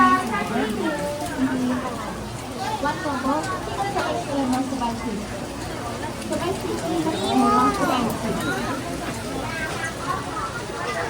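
Rain falls steadily in a busy street in Ximending, Taiwan, a constant hiss under a crowd's murmur while people talk nearby throughout.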